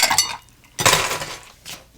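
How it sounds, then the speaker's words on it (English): Ice goes into a cocktail glass for a tropical blue drink, heard as three bursts of bright clinking and rattling: one at the start, a louder one in the middle and a shorter one at the end. "A little more ice."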